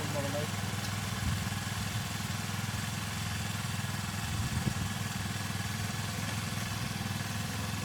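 A motorcycle engine running steadily on a test ride, a continuous low throbbing hum with constant loudness throughout, heard from nearby without speech over it.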